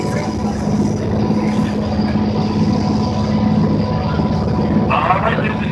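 A tourist train climbing toward Pikes Peak near Colorado Springs rumbles steadily along the tracks with a constant low drone, loud and near, with a brief rise of noise near the end.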